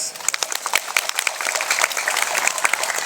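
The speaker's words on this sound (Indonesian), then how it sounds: "Tepuk tangan dulu nih" Listeners at a religious talk on interfaith tolerance clap together, a brief burst of moderately dense applause with crisp individual claps, close and loud, lasting only a few seconds.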